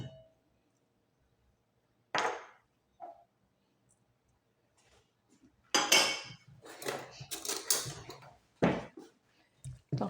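Ingredients are mixed together in a bowl for breaded chicken, with scattered close clinks and scrapes of utensil against dish in short bursts separated by quiet gaps.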